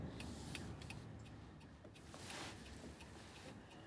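A car accelerates up a ramp onto Interstate 315, heard from inside as a steady, soft rumble of road and engine noise with a faint airy hiss and no voices.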